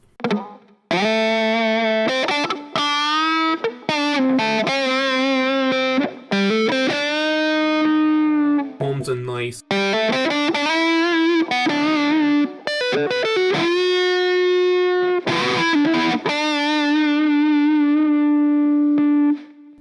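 Heavily distorted bass guitar notes with phase-reversed pickups and tone turned all the way down, played loud and close, a thick buzzing tone with short pauses between phrases and no talking.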